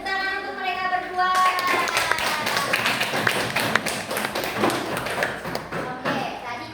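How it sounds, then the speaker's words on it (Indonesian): Pupils in a fourth-grade classroom clap for two classmates, a brisk, uneven patter of close hand claps and taps that follows a brief spoken voice at the start. "Ya, tepuk tangan untuk mereka berdua."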